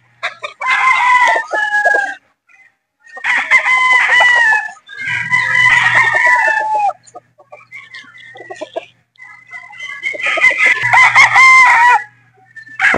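Boston Roundhead gamefowl roosters crow loudly and close by in long repeated calls, with soft clucking and short gaps of quiet between the crows.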